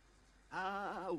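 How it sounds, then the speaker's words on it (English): A Sim showering in The Sims 4 video game sings in wavering gibberish, starting suddenly after a quiet moment and holding steady and fairly loud. "And he's singing in the shower"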